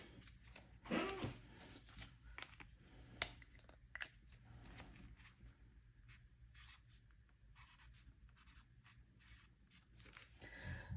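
An IOU is written by hand on paper, quiet pen scratches and rubbing strokes coming in short bursts with small pauses, close and faint with no talking.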